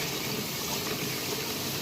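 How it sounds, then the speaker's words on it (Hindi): Water runs steadily from a pipe while mangoes are washed, a continuous close hissing gush with no breaks and no talk. "पानी रे मु धोईदेली भलसे। आम पानी रे भलसे धोईदेवा।"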